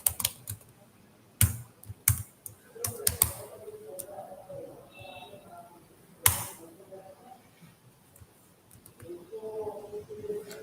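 Keystrokes on a computer keyboard while entering product names and prices in an Excel spreadsheet: a few loud isolated clacks and short bursts of typing with quiet gaps, plus a faint voice in the background.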